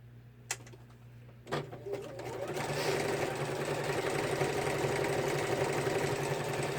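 A sewing machine starts up after a couple of sharp knocks and runs steadily, stitching at a continuous fast rhythm, close and fairly loud, with no talking.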